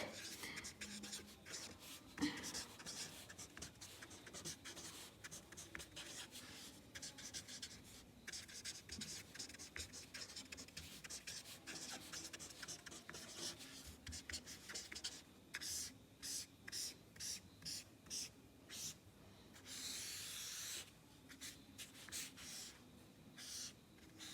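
Pen or marker scratching across paper while a periodic table is drawn by hand, with steady close scribbling strokes and short pauses between lines, quiet and with no talking.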